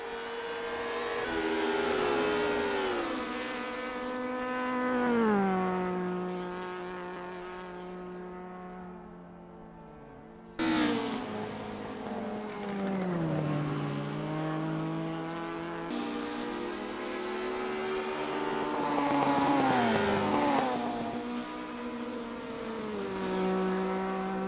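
A Ford Escort RS1600 and an Alfa Romeo GTAM race in Assetto Corsa, their engines loud and close, revving up through the gears with rising and falling pitch and a brief gearshift dip midway.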